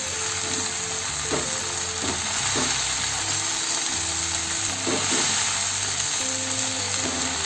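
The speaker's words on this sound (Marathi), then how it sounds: "आधी थोडीच भाजी टाका, थोडीशी ती परतून घ्या, म्हणजे ही भाजी कमी होईल" Chopped water spinach (karemua) greens sauté in a pan with a loud, continuous sizzle, broken by several scraping stirs and clinks of the spatula, close up and free of talk.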